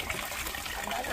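Water pours and splashes from a dipper while people wash laundry by hand, a steady close gush running the whole moment with faint voices underneath.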